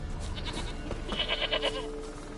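Goat bleating in the fantasy role-playing game The Witcher 3: Wild Hunt, a short wavering bleat rising midway through a couple of seconds over a steady ambient game backdrop, no speech.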